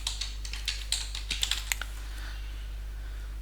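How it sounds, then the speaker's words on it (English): Keys tapped on a computer keyboard while setting up a vCenter Server 9 backup to a Windows SMB share, a quick irregular burst of close clicks that trails off into quiet hum, with no talking. "So now I'll type here"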